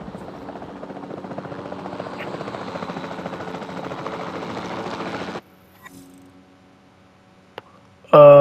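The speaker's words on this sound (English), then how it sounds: "Then the sensible thing is to take a Capture Team helicopter." Capture Team helicopter in the video game Jurassic World Evolution 2, a steady buzzing rotor drone for about five seconds that then cuts off abruptly, followed by faint game sounds and a sudden loud burst at the end.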